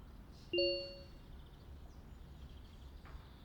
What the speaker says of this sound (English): Oh, that must be your phone.